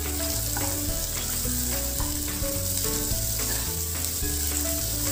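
Chopped onion, cashews and green chillies fry in hot oil in a pan, a loud, steady, crackling sizzle close up with occasional stirring, over tonal background music.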